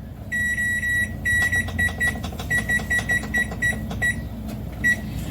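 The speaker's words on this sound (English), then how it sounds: "going to go ahead and set my timer." Kitchen timer being set while pressure canning ground beef, giving a run of short, high electronic beeps in quick irregular bursts over a low background hum, fairly quiet and close.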